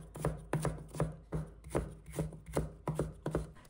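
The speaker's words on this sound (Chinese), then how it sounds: "再切成条" A knife chops carrot into strips on a cutting board, about a dozen crisp, evenly spaced thuds and taps in a quick steady rhythm, close and clear with no talking.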